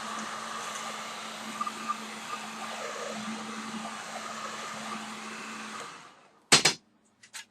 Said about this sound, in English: You can either use a hair dryer or a heat gun.